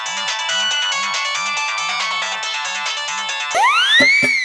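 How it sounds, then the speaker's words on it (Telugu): A mobile phone ringtone plays a bright, repeating electronic melody with a pulsing low beat, loud and near, and ends abruptly in a sweeping whoosh effect on a TV comedy show. "ఊటీలో ఉన్నానన్నాడు, ఇక్కడ వినబడుతుంది ఫోను"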